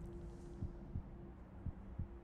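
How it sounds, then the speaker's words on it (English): A heartbeat in the VR game In Death thumps in soft low pairs of beats, about four evenly spaced pulses over a quiet steady hum, with no talking. "Hear the heart beating that heart beating really does get to you"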